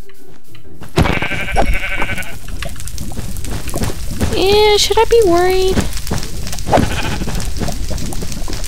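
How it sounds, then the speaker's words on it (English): Sheep bleat in a burning video-game landscape, a few wavering, nasal calls rising and falling over rain-like static and crackling, with someone talking over the scene before and after. "I thought I saw some sheep."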